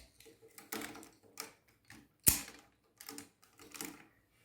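Hard plastic parts of a Power Rangers Dino Thunder Thundersaurus Megazord toy clicking into place as the Triceratops head is reattached, giving a series of short, close taps and snaps with one sharper, louder click near the middle.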